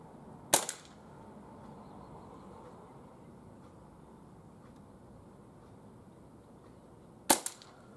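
Two sharp, snappy shots from a Umarex Walther PPQ M2 CO2 air pistol on fresh CO2, spaced several seconds apart with faint ambient hiss in between.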